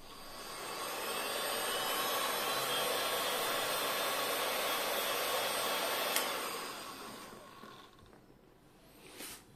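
A heat gun blows steadily to warm freshly applied glue on a car leather repair, a loud, even airy roar close by that holds for several seconds, then fades as it switches off.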